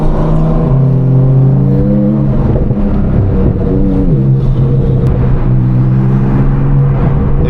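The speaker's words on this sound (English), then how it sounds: "be doing a little drive POV alongside the newly straight piped Audi R8" A newly straight-piped Audi R8 with installed headers and F1 exhaust drives alongside a 1,000 hp Turbo S, heard from inside as a loud, continuous engine drone whose pitch rises and falls with the throttle, no talking.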